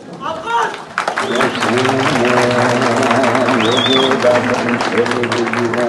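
A crowd applauds at a university memorial for the Halabja massacre, clapping carried under loud sustained voices that chant or call out together throughout.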